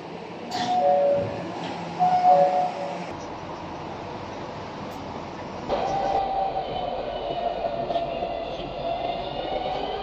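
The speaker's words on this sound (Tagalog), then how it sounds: "الترام يقترب من جبل الليل الشمال" A tram rolls toward a station in Lusail, with a steady rumbling ride noise, a chime-like ding near the start and a shift in the running tone about halfway through.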